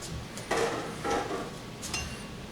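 A sharp knife slicing tofu into bite-sized pieces on a cutting board, producing three distinct knocks against the board at a steady pace, close and fairly clear with no talking.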